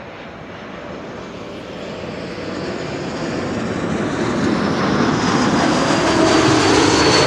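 IndiGo airliner arriving from Mumbai at Amsterdam Schiphol, a steady jet engine roar that swells louder as the plane draws nearer over several seconds, alone with no talk.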